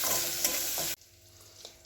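Banana flower curry spices sautéed with salt and sugar, a loud steady sizzle and stir that drops abruptly to a faint low frying hiss partway through.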